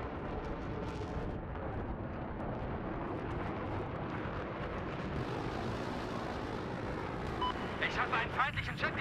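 An enemy jet roars through a Battlefield 4 match on PS5 as a steady, rumbling engine wash, with a brighter whine building near the end, all under dense battlefield noise and a game voice calling out.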